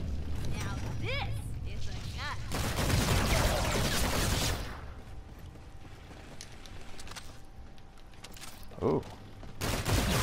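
Gunfire in the zombies mode of the video game Infinite Warfare: a loud burst of shots and mechanical weapon noise fills the first seconds, followed by quieter game sounds with a brief spoken exclamation.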